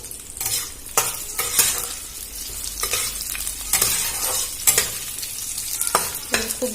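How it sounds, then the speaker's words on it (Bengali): Whole spices (cinnamon, dried chilli and bay leaf) sizzle steadily in hot oil while a utensil scrapes and stirs the pan in repeated sharp strokes, close up. "আমি এগুলো আবার একসাথে ভেজে নেব"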